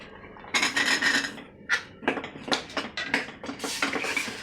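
Potatoes tipped into a kadai of roasting spiced masala, giving a run of close, sharp clattering and scraping bursts against the metal pan, with no talking.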